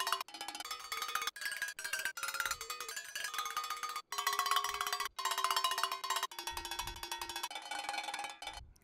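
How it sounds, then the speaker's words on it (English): Sampled almglocken cowbells triggered in Pro Tools ring out in a busy run of pitched metallic strikes, notes overlapping with brief gaps between phrases, played loosely and fairly quiet. "And so now I have a almglocken instrument in Pro Tools."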